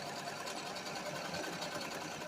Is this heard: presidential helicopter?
no